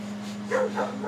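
A dog named Lady gives a few soft bow-wow barks and whimpers on a large family homestead in September, moderately near over a steady low hum.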